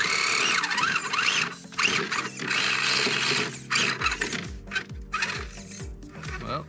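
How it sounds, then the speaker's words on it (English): An RC rock crawler's steering servo strains and squeals in repeated grinding, ratcheting bursts as the truck climbs rocks, with short pauses between efforts and a faint voice nearby. "His servo is not sounding good."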